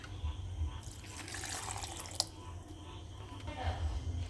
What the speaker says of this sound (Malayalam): ഇനി അല്പം വെള്ളം കൂടെ ചേർത്ത് അരച്ച് നമുക്കെടുക്കാം